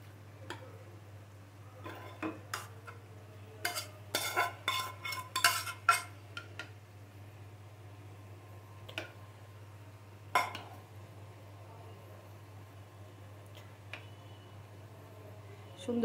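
Beef liver curry being poured from a pot into a serving dish: scattered clinks and scrapes of a spoon against metal and crockery, with bursts of clatter between quiet gaps.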